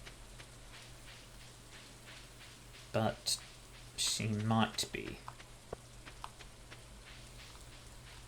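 Steady rain falls in the Stardew Valley farming game, a soft continuous hiss running the whole time while a person talks over it in short bursts.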